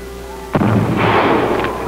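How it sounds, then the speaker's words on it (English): Civil War-era Union artillery shelling the city of Vicksburg, a single loud, sharp cannon blast followed by a rumbling roll that fades, close and alone. "In late May, the Union artillery began to shell the city."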